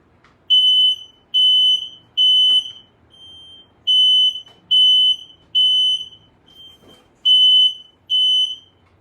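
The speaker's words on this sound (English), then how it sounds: "There are no batteries in these new smoke detectors." Residential smoke detector alarm sounding a loud, piercing high-pitched beep, close by, in bursts of two or three evenly spaced tones separated by short pauses, with faint weaker chirps between the groups and no voices.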